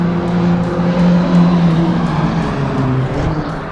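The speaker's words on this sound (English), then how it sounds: "coming off that turn, the cars are really accelerating, and then slowing again when they get to the turn at the end" Race cars on the straightaway at Laguna Seca Raceway, with loud, steady engine roar and layered droning tones from several cars accelerating together, close and continuous throughout.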